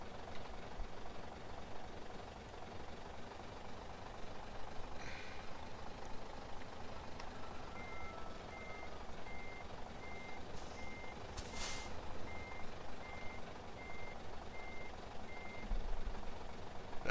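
In Farming Simulator 2013, a MAN truck idles with a steady low engine rumble. Regular reversing beeps start partway through and keep going, with a brief hiss like an air brake, and no one talks.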